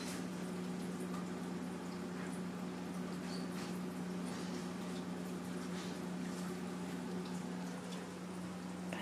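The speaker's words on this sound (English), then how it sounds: "I love the way LT drinks out of her water bowls." A shelter animal laps water from a bowl, a faint continuous wet patter under a steady mechanical hum from the shelter room, with no talking.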